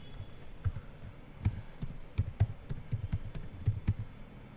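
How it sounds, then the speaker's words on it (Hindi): Keystrokes on a computer keyboard as a command is entered in a terminal, a quick irregular run of close, crisp taps with short bursts and pauses, alone without talk. "अभी फिर से कमांड टाइप करते हैं"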